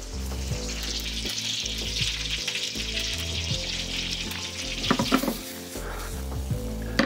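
Shallots sizzle steadily in a pan with soy sauce and cider vinegar, a loud continuous frying hiss with crackles and a few stirring clatters near the end.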